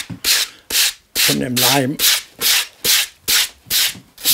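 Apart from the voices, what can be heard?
hand sanding wood chessboard, removing glue tape residue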